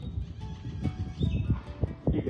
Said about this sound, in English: You can trot this horse all day, very smooth.